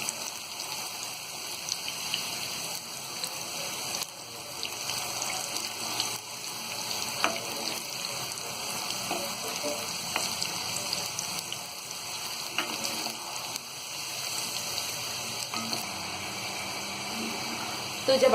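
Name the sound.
potato fries frying in hot oil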